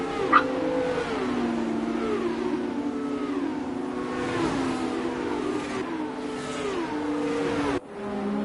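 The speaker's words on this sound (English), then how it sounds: "engines all warmed up now, their tyres up to temperature here in our formation lap" Several F2 race car engines rev in a racing video game during a formation lap, their overlapping whining tones rising and falling steadily and loud throughout, then cutting off sharply near the end.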